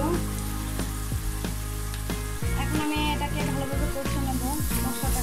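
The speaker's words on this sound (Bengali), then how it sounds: "আমি এটাকে ভালোভাবে কষে নেব মশলাটাকে" Spices with turmeric and chili powder frying in a pan for a rohu fish and mati aloo dish, a dense continuous sizzle over a low hum, with thuds and scraping stirs growing busier halfway through, close and fairly loud.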